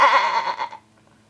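A single sheep in the video game Survivalcraft gives one short, nasal bleat that fades out quickly, heard close and alone.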